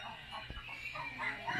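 Laying hens on an ecological farm in Sonora cluck softly in a short burst, a low continuous murmur of fowl with no clear individual calls standing out.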